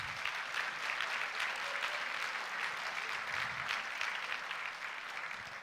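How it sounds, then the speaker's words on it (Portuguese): An audience in church applauds steadily, with a quiet, somewhat distant wash of many hands clapping and no talk, tapering slightly at the end. "Por favor, dê um aplauso a Jesus."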